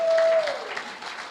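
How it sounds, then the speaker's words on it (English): An audience at a Sunday sharing gathering breaks into warm applause, a dense patter of many hands clapping steadily. A brief thin tone sounds at the very start, and the clapping eases slightly toward the end. "Can we give her a clap for that?"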